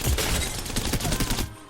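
A Havoc energy rifle from Apex Legends fires a rapid automatic burst at training dummies on a practice range, loud and close, with a final shot after a short pause.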